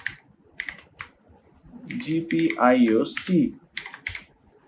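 Code being typed on a computer keyboard for an STM32 microcontroller program, bursts of quick clicking keystrokes near the mic, broken by a short stretch where someone speaks over the tapping.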